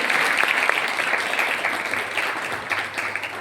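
Enthusiastic applause from a Republic Day celebration audience, a thick, sustained burst of many clapping hands that starts strong and eases slightly toward the end, with no talk over it.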